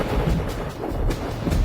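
Thunder rolls low and steady before rain on a fantasy drama set outdoors, a continuous deep rumble with no speech over it.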